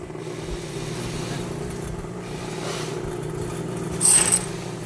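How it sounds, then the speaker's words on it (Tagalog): A noisy engine rumbles steadily at a home workspace, a constant low drone with a brief scraping clatter near the end and faint voices in the background. "maingay talaga makina namin dito"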